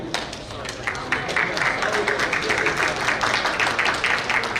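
Audience applause at an award and annual banquet night, a steady dense patter of many hands clapping that fills the room for several seconds, with a voice or two faintly underneath.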